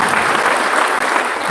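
Sustained applause from a crowd at a memorial church service, steady dense clapping throughout with no pauses, loud and close.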